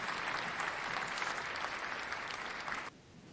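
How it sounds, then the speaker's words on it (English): Steady, dense applause from a crowd, heard faintly as if from a distance. It holds evenly for about three seconds and then drops off abruptly. "Huge applause."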